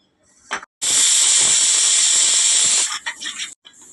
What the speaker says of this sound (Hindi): 1 सीटी आने के बाद में फिर हम गैस को स्लो कर देंगे